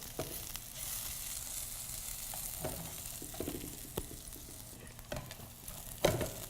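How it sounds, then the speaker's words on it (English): Shallots caramelizing in a pan while cooking lobster stuffed mushrooms, a soft steady sizzle with occasional stirring scrapes and a clack near the end. "all you're doing is caramelizing the onion, the shallot"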